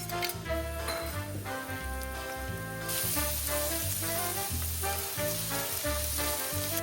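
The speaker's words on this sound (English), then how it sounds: "add the crushed garlic," Crushed garlic sizzling in olive oil in a pan, a steady, bright frying hiss throughout that grows louder partway through, with music playing underneath.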